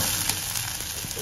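Steady, close sizzling from a pan sautéing over a low flame, a brief unbroken hiss with no speech.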